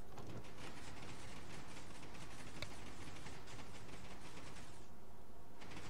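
A Minecraft piston bolt flying machine moves along a track to an ice farm, a rapid stream of mechanical clicking and ratcheting thuds that runs steadily, then thins out near the end.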